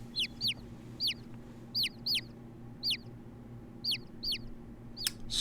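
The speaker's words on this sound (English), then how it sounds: "Look at all those chickens, even though they're geese" Geese in The Great Ace Attorney Chronicles video game give about ten short, sharp clucking calls in an irregular rhythm over a low steady background hum.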